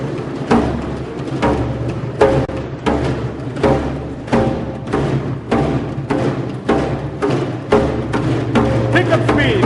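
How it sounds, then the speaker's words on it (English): A group drum circle plays djembes struck slightly off-center for a sharper tone at a corporate partner event in Goa, giving steady, loud, repeated hand strikes in unison with an even rhythm throughout. "We aren't going to play right in the center, but we're going to play a little off center. It's going to give us a little bit of a sharper tone"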